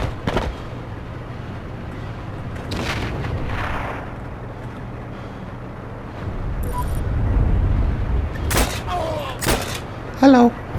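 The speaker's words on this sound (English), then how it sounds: "So he threw a freaking grenade at me from the tower." A grenade explosion in Heroes and Generals: a deep, rumbling blast late on amid scattered sharp gunfire cracks and booms, with someone speaking between them.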